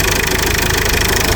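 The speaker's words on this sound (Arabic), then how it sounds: "الموتور راه تيربو" A turbocharged engine runs loud and close on a used car at a market in Fez, producing a dense, steady mechanical clatter and rumble with no talk.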